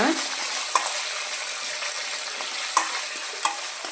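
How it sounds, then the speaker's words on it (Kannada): Mustard seeds, cumin and chana dal fry in hot oil in a pan for masala dosa potato palya, with a bright continuous sizzle and a few spoon scrapes and taps against the pan. "ಈಗ ಇದಕ್ಕೆ ಒಂದು ಸ್ಪೂನಷ್ಟು ಸಾಸಿವೆ ಜೀರಿಗೆ ಸಣ್ಣ ಕಟ್ ಹಚ್ಚಿ ಇಟ್ಕೊಂಡಿರೋ ಕಡಲೆ ಸ್ವಲ್ಪ ಕಡಲೆಬೇಳೆ ಹಾಕ್ಬಿಟ್ಟು ಸ್ವಲ್ಪ ಫ್ರೈ ಮಾಡೋಣ"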